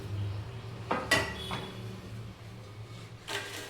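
Roasted coconut chutney powder scraped from a pan onto a plate, heard as a few soft scraping and clinking kitchen-utensil sounds against a low steady hum, with brief bursts near the start and end.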